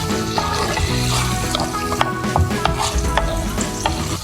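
Onion and tomato sautéing in a pan for a chicken leg fry, a loud, dense sizzle with utensil scrapes and clinks running through the whole stretch, no speech.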